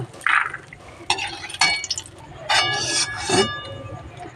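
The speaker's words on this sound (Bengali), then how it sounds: "এবার কলাই বড়িগুলো তুলে নেব ছান্তায় করে" A slotted spoon lifting fried lentil dumplings out of hot oil in a kitchen, giving several separate metallic clinks and scrapes against the pan amid faint sizzling.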